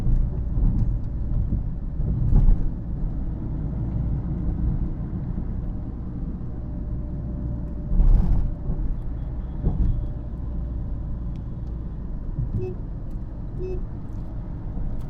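A car cruising smoothly in fourth gear, heard from inside the cabin. A low, steady engine and road rumble carries on throughout, with a few soft bumps and clicks.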